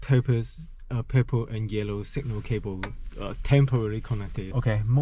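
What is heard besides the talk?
No distinct noise like a dog, phone or traffic.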